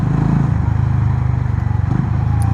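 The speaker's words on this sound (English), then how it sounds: "These Hondas are the best sounding motorcycles that I have ever ridden." A 2025 Honda CB350RS motorcycle engine and exhaust while riding, a steady, loud, close low-pitched thump with a brief dip in revs partway through.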